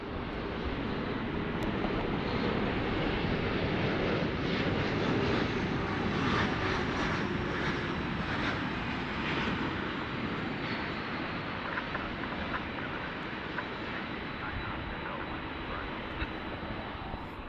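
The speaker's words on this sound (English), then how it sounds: "So Finnair is headed our way." A Finnair airliner approaching the airport, a broad, steady roar of jet engines heard from some distance that holds level throughout with no break.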